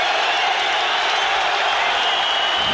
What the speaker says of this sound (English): The crowd aroused here now